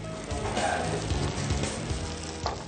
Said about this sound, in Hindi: टिक्कियों को दोनों तरफ से पकाएंगे